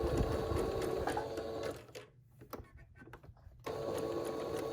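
A sewing machine stitches a filtered fabric mask in rapid rhythmic whirring bursts, pausing for a couple of seconds with faint handling clicks before stitching resumes loudly and close.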